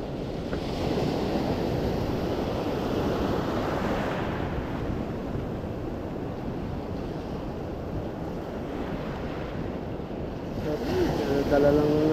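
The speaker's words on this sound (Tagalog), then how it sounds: "Lakas ang alon." Strong waves surge and wash continuously in open water, with heavy wind buffeting the microphone and a steady roar that builds louder toward the end.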